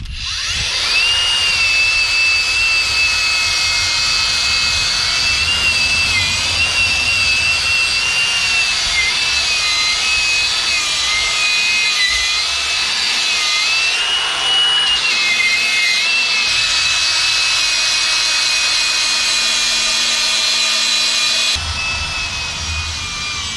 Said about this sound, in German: irgendwie komme ich aus dem Schleifen nicht raus hier